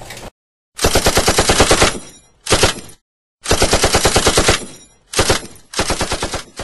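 Loud, sustained bursts of rapid automatic gunfire, several long strafing volleys separated by short silences, close and dominant with no talk.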